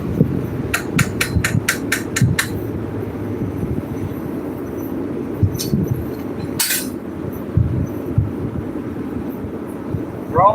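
Metal is hammered at a forge in a quick run of sharp ringing strikes, then isolated clangs over a steady rumbling background.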